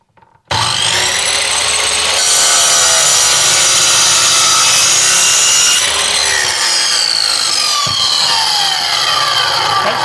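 A power saw cuts a 45-degree miter into a wooden skirting board, a loud, sustained whining buzz that holds for nearly ten seconds up close, its pitch shifting slightly partway through the cut.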